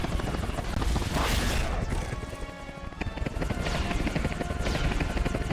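Rapid chopping thump of helicopter rotor blades, loud and close, with a rhythmic pulsing beat that briefly dips before surging back.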